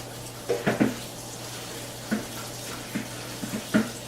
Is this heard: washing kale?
yes